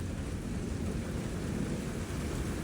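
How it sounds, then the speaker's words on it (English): Thunderstorm rain sets in as a dense, steady roar with a low rumbling undertone, continuous and fairly loud throughout, with no voices. "now the rain has just started."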